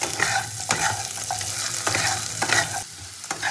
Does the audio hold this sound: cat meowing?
no